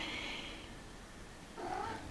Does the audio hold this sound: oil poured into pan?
no